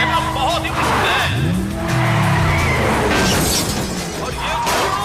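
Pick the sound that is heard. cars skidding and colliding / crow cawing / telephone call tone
cars skidding and colliding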